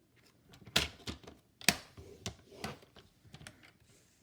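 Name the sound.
paper trimmer score blade scoring cardstock for gift tags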